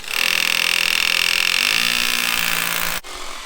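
A Hilti hammer drill bores into concrete block at close range, a loud, steady high-pitched grinding whine that holds for about three seconds, then stops abruptly, leaving quieter background noise.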